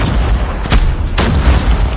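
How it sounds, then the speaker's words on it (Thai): Grenade blasts in the mobile shooter game Call of Duty Mobile, two booming explosions in quick succession over steady loud game background noise, with no voices. "ปาระเบิด"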